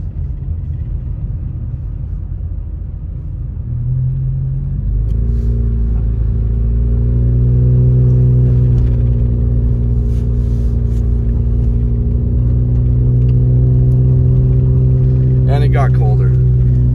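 A car cruises along a snowy road in Big Bear on a very cold day, its engine a steady low rumble with tonal drone and road noise that rises slightly partway through, with a few faint clicks near the end.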